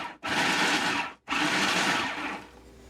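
A blender pulses ingredients for Tarta de Santiago in three bursts: two loud, close whirring pulses about a second each, separated by brief silences, then a third that trails off and stops.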